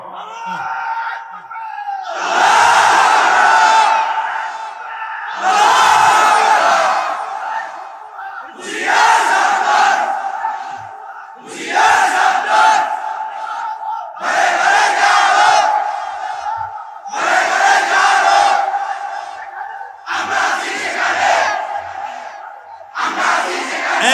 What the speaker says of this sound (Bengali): ভালো তাকবীর দিতে পারেন এমন একটা যুবক দেখে দাঁড়ায় তাকবীর দাও তুমি